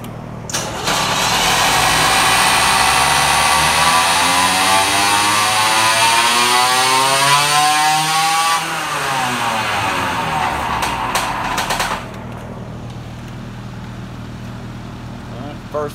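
A motorized bicycle engine fitted with an HD Lightning CDI revs hard on a dyno toward about 8,900 RPM. It is loud and close, its pitch climbing steadily and then falling back before it drops to a quieter idle.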